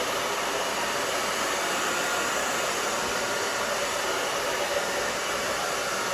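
A hair dryer blows continuously and loudly at a steady pitch while drying hair during a haircut, with no talking over the even rushing airflow.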